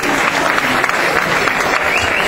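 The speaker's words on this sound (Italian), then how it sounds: "per fare un applauso anche alla fanfara dei Carabinieri" Dense applause from a concert audience for the Carabinieri fanfare band, a loud continuous wash of many hands clapping with no pauses.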